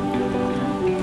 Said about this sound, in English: that sound is the sound of massive pressure ridges being formed right by my feet